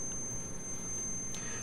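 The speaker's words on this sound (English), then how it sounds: "excuse the long beep, it's just enumerating those hard drives and seeing which one it needs to boot from" A computer booting an Xpenology build while enumerating USB hard drives gives off a long, steady, high-pitched beep over a low hum, with the tone cutting off near the end.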